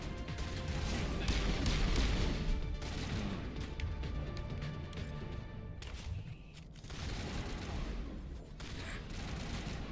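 Gunfire in the video game Mass Effect Legendary Edition: dense, continuous loud weapon fire and crashing combat noise across the whole stretch, easing briefly partway through.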